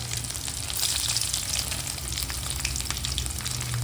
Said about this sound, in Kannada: ಸಾಸಿವೆ ರೋಸ್ಟ್ ಆಗ್ತಾಯಿದೆ, ಪಟ ಉಡ್ತಾ ಇದೆಯಲ್ಲ, ಆವಾಗ ಬೆಳ್ಳುಳ್ಳಿ ಹಾಕ್ತಾಯಿದ್ದೀನಿ.